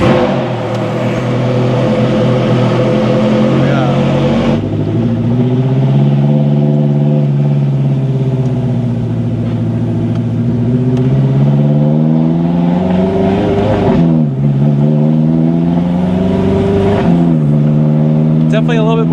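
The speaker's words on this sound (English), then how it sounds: "hop in and take it for a spin." A 2007 Ferrari F430 Spider drives off. The engine hums steadily and swells through several rising and falling pulls, loud and close throughout.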